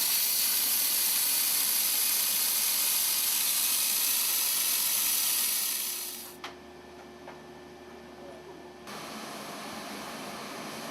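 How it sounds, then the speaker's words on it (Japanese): Soot being sprayed onto a charcoal-dried outer casting mold in a traditional iron casting workshop, a loud steady hiss that fades out after about six seconds, leaving a quiet room with a faint click and low hum. "炭火で乾燥させていた外型にも硝煙を吹きつけます。"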